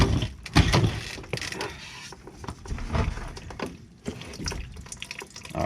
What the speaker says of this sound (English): I put this bin under here so that it'll drain into that,